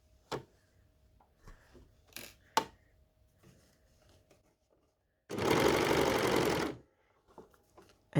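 An overlocker sews a seam on a T-shirt in one loud, fast whirring burst of about a second and a half, set among quiet clicks and handling taps.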